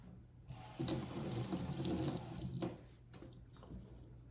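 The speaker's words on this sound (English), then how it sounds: "Rinse off the spoon." A spoon is rinsed under a kitchen tap as water runs steadily into the sink for a few seconds, then eases off, close and clear with no talking.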